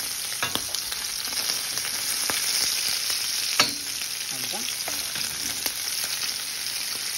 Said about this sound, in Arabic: نحوه من المرقه ونحمروه. نحمروه غير شويه باش يكون وجهه خفيف